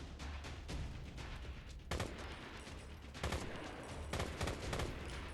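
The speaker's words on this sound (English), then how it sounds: "I'm tapping to conserve ammo and shooting in burst shots" Rapid bursts of gunfire from the Left to Survive video game crackle in short repeated volleys, loud and dense, with no talk over them.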